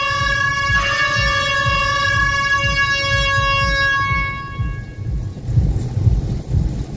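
A loud air horn alert blares as a sustained, bright multi-tone blast lasting about three seconds, then fades, leaving low rumbling road noise inside a truck cab.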